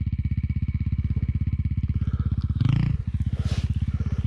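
A KTM 450 EXC dirt bike fitted with a power bundle and a Rekluse clutch, its single-cylinder engine idling in a fast steady thump on a steep, muddy hill, then a sharp loud rev before it drops back to the idle pulse.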